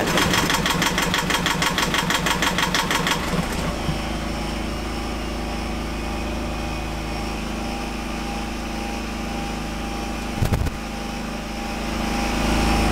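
A small Yanmar diesel engine in a sailboat starts first try and runs with a steady, throbbing idle, loud and close, with a brief clatter partway through and no talking.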